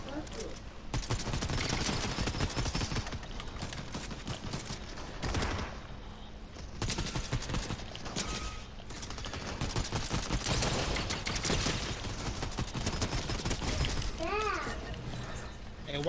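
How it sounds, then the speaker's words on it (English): Dense rapid gunfire from enemy players in a duos battle-royale match, continuous and loud with rattling bursts and crashes, while voices talk in the background. "over there shooting at us"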